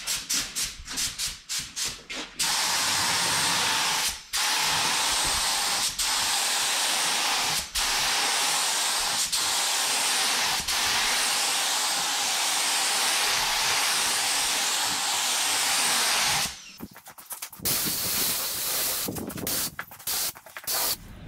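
A paint spray gun fed at about 27 to 29 PSI from a compressor set near 80 PSI gives a loud, close, steady hiss. A few short bursts open and close a long unbroken pass.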